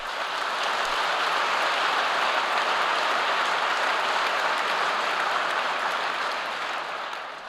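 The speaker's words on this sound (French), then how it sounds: "vous pouvez les applaudir aussi" Applause at an assembly of business leaders, a thick, even wash of clapping from a large audience sustained throughout and easing off only at the very end, with no voices over it.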